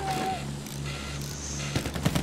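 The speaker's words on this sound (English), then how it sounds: "Oh, look at all those bullets." Battlefield 1 gunfire crackles in quick bursts and scattered shots amid a busy in-game battle, mid-loud, with a brief voice fragment near the start.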